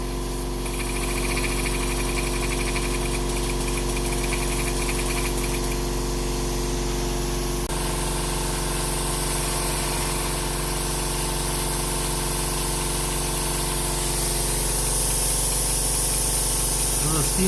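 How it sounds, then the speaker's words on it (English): Steam pump on a coal-fired LGB Mallet live-steam model locomotive by Walter Kolb, giving a steady, close hiss with a continuous mechanical pumping hum that holds evenly throughout. "The steam pump is also working very nicely."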